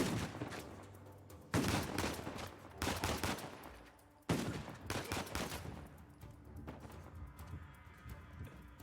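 Shotgun blasts in the Uncharted 4 video game, several loud booming shots with sharp attacks and decaying tails, spaced a second or two apart amid background combat noise, with no talking.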